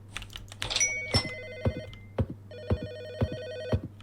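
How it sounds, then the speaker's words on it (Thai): Phone ringing in the video game Side Hustle: loud, bright electronic rings repeat in regular bursts over a low steady hum, with clicks between them. "อุ้ยโทรศัพท์"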